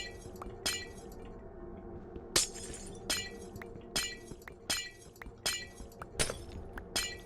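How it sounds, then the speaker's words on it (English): Glass breaking in the video game The Citadel, repeated shattering crashes with tinkling shards in a steady series of about nine breaks over quiet ambient game sound, fairly faint. "So if you're not sick of hearing the glass breaking sound now, believe me, you will be."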